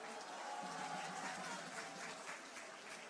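Audience applause welcoming a lawmaker at a Busan party New Year gathering, a steady wash of many hands clapping throughout, dense and sustained at moderate level.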